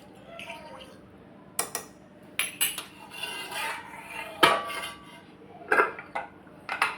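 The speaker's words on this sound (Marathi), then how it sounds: "हळद चमचाभर आता हे मिश्रण आपल्याला छान असं ढवळून घ्यायचं" A metal spoon stirs a salt and turmeric mixture in a pot while making dal khichdi, giving scattered clinks and scrapes against the metal at moderate to soft volume with a quiet room in the background.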